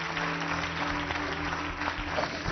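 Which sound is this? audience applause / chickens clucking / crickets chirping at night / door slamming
audience applause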